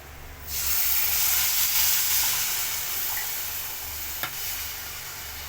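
A loud, steady hissing sizzle starts suddenly as water is added to a banana flower curry in a pan, boiling and bubbling continuously with one brief clink near the end.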